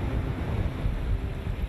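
Strong wind roaring steadily across an open bay with the tide coming in, a low buffeting rush with no voices, heavy and unbroken throughout.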